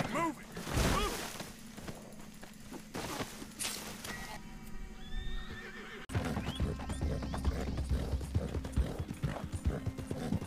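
A video game horse neighs loudly and its hooves clip-clop steadily in a fast rhythm, mixed with game music and effects that change sharply midway.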